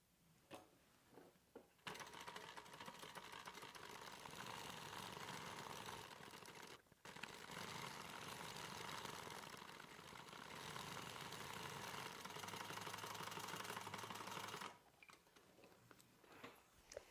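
A sewing machine runs a long, steady stitch around the curved seam of a messenger bag, with a close, loud whir that pauses briefly once midway. A few light handling clicks come before and after.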